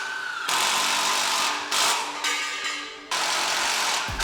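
Power tool driving a self-threading screw into a metal nest frame, heard as several loud close whirring bursts with short gaps and pitch changes as the screw tightens; no talking.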